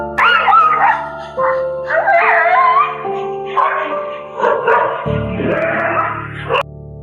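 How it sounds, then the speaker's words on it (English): An aggressive street dog and a Rottweiler bark, yip and whimper during an attack, loud repeated bursts heard over steady background music. "When an aggressive street dog started attacking this couple, their Rottweiler went into full protective mode and shielded them from the vicious attack."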